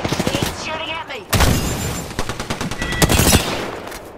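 Rapid automatic gunfire and single shots crack loudly and close in an Apex Legends match, directed at the player in bursts that carry on throughout, with a voice speaking over the opening second.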